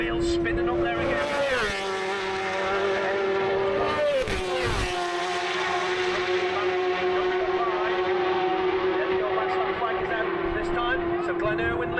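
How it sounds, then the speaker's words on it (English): Racing motorcycles at speed on a track during a race day, a loud sustained engine whine that drops in pitch twice with quick gearchanges, then holds a steady high drone. "And there will Dean, that rear wheel spinning up there again"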